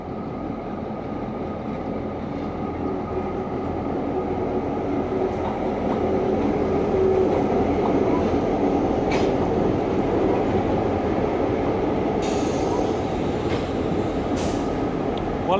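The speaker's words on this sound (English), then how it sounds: "So the engine has gone from our train and it's coupling with this one now." A locomotive on the Kuranda Scenic Railway moves along the station tracks to couple with another train. Its steady, loud rumble continues throughout, and a few sharp metallic squeals break through near the end.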